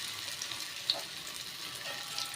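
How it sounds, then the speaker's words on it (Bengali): Small fritters (bora) fry in hot oil over a low flame, giving a steady soft sizzle with faint crackles and no voices. "এরকম ছোট ছোট করে নেব, নিয়ে এইভাবে বড়াগুলো ছাড়বো।"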